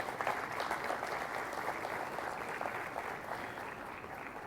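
Sustained audience applause for an engineer at a civil protection panel session on earthquakes and resilience, a steady dense patter of many hands at even loudness throughout, with no talking over it.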